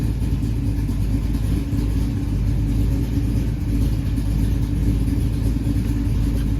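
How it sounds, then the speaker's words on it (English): Loud exhaust drone from a car fitted with straight-through mufflers, a steady low rumble at idle that holds close and constant throughout with no talk. "I was not happy with how loud the car was. It was just way too loud. Let me show you."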